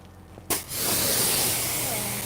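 Sustained spray hiss from a pressurized sprayer during car detailing with ceramic coatings, starting abruptly with a sharp burst and then holding steady and fairly close, with faint voices in the background.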